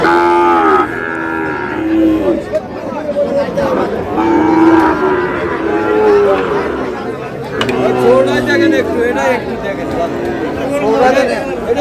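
Sahiwal cattle at a livestock market low loudly and repeatedly, deep drawn-out moos overlapping one another amid crowd chatter, close by and busy.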